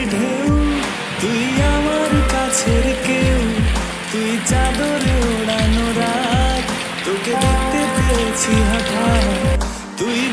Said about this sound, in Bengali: সারা রাত এভাবেই বৃষ্টি পড়তে থাকে